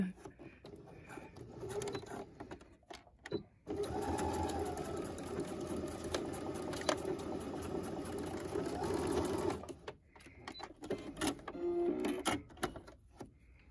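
A sewing machine stitches elastic for a face mask, its steady mechanical whirring running in one long burst with short starts and stops on either side, close and alone.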